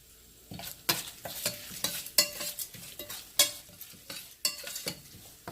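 Dried red chillies frying with asafoetida in oil for a cucumber chutney, a soft sizzle broken by repeated sharp scraping stirs of a spoon in the pan, irregular and close, with no voices.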